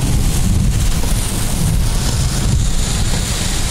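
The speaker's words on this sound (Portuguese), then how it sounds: "Tá muito forte a chuva." Heavy rain pours onto a road in northern Minas Gerais, making a dense, steady, loud roar of hiss and rumble with no pauses.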